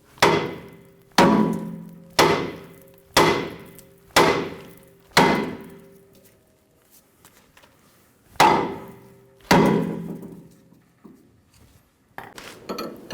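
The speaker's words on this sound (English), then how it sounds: "We're going to hit the side of the knuckle and pop the tie rod out" Hammer striking the steering knuckle of a 2005-2015 Toyota Tacoma to pop out the outer tie rod end: about eight sharp, ringing metallic blows in a steady rhythm, a pause, then two more, close and loud with no talking.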